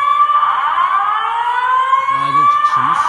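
A fire alarm system's announcement siren sounds during a building test, a loud, sustained steady tone that slowly rises in pitch, while a voice briefly talks over it near the end.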